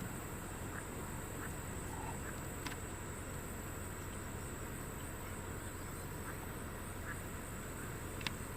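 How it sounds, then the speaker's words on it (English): Wood ducks give a few faint, scattered calls at a distance over a steady background hiss and insect hum outdoors. "A couple wood ducks."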